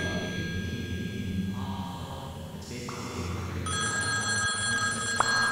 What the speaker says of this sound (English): It's a phone.